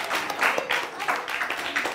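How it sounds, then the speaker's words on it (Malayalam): Audience clapping for a child at a balloon art and mono act session, a short burst of scattered hand claps nearby, with no voices over it. "ഒരു കൈയടി കൊടുത്തേ എല്ലാരും"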